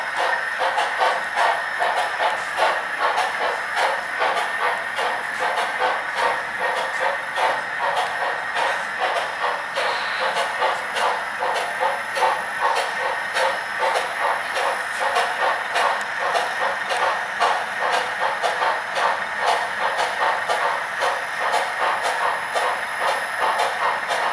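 An HO scale model train runs on a model railroad layout, a continuous rhythmic clicking of wheels over rail joints with a steady hiss, even and close throughout.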